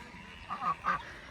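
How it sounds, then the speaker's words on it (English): Two short, nasal duck quacks in quick succession, fairly close, over a quiet background. "we have a few special needs ducks in here"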